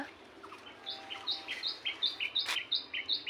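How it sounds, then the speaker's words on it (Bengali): A small bird chirps repeatedly in a quick, regular series of short high notes on a rooftop garden, fairly close, with a faint background hum and no speech. "এই দেখেন পাখি আমার বুঝতে পেরে গেছে।"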